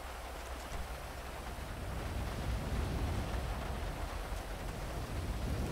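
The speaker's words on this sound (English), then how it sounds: "And of course it's gonna start raining." Steady rain falls outdoors with a constant dense hiss that thickens slightly after the first couple of seconds, with no voices.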